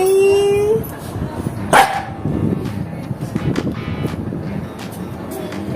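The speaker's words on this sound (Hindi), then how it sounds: "एक और बार भौंक रही है" A dog in a home where guests are arriving gives a short bark that stands out from steady household noise, with voices from people nearby.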